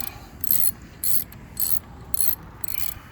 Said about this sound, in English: then I get to switch over to the 6 there and install the big bolts